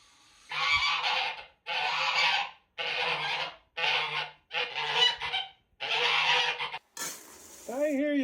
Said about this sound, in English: I hear you, geese.